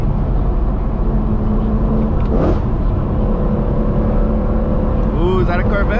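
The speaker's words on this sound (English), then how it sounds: "you guys can still hear the super nice V8 sound" A BMW E90 M3 V8 drives at moderate revs, a loud, steady low engine drone with road rumble filling the cabin throughout, and a voice talks briefly over it.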